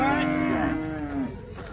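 A dairy cow moos at a livestock fair in Altinho, Pernambuco, one long, loud, close low call that slides downward, with crowd noise underneath.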